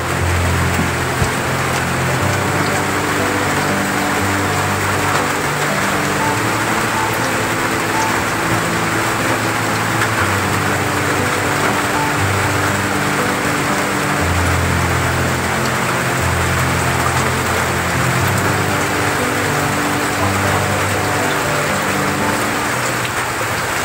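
Heavy rain pours down steadily and loudly during flooding at a house near an overflowing creek, a dense continuous wash with no talk over it.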